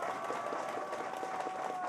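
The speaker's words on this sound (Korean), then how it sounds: "박수 부탁드립니다" Crowd applause at an outdoor community rally about extending Seoul subway Line 9 in Gangdong, following a National Assembly member's speech; a steady, dense wash of many hands clapping fills the whole stretch without pause.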